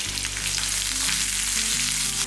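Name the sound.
crushed garlic frying in hot oil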